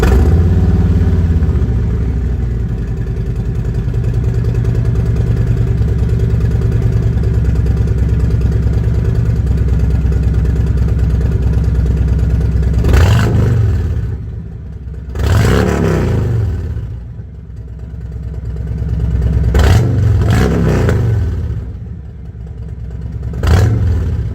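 A Harley-Davidson motorcycle engine idles with a deep, steady rumble through its factory exhaust, then barks through several sharp revs that swell and drop back, close and loud.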